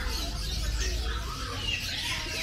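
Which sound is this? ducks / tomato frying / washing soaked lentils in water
ducks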